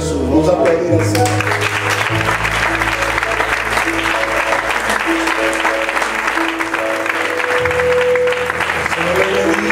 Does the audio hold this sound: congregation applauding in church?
yes